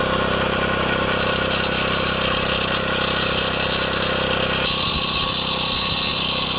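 A lawn mower fitted with a Ballard Saber X blade cuts through thick grass in a home lawn. Its engine drones steadily and loudly up close, and the tone shifts and the load grows rougher partway through as the blade bites into the growth.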